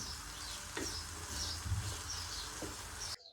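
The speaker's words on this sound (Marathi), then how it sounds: "ही भाजी आपण 2 मिनिटं आहे ना परतून घेऊयात, मग खाण्यासाठी रेडी" Paneer bhurji stir-frying in a pan, a soft steady sizzle with occasional spatula scrapes and stirring, faint and close, cutting off abruptly at the end.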